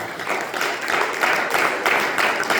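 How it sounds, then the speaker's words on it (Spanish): Applause from a church congregation honouring the Son of God, a dense steady wash of many hands clapping that fills the room at an even, loud level throughout. "Den un aplauso fuerte al Hijo de Dios."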